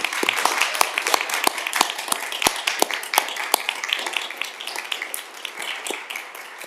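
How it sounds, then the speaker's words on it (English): Applause at a council transportation workshop, a round of clapping for a departing colleague: dense, steady clapping from a roomful of people with sharp individual claps standing out, moderately close and unbroken. "But just a quick round of applause for Margie,"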